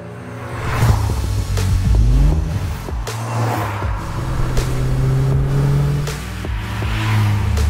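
A Morgan Plus Four car drives by, its engine note rising and falling through gear changes and revs, loud and close, with a continuous rumble and some wind rush and no talking.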